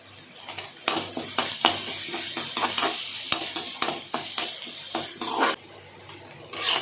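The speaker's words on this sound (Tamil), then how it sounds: "வெங்காயம் வதங்கிடுச்சு இப்போ பீட்ரூட் சேர்த்துக்கலாம்" Chopped onion sautés in a pan for beetroot poriyal, a loud, dense sizzle with repeated scraping strokes of stirring, dropping suddenly quieter near the end.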